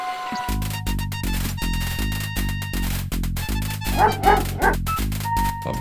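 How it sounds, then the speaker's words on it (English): Dog barking while digging at an anthill in the King's Quest V PC game, a rapid series of short, repeated game-sound barks and yips heard alone, with a brief whimpering flurry near the end. "A bully of a dog terrorizes the poor ants as he playfully digs at their large anthill"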